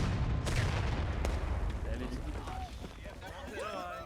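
Artillery cannon shot in War of Rights during a 300-player Civil War battle at Bolivar Heights Camp, with a sharp boom early followed by rolling low rumble, distant shouts and a voice talking over it.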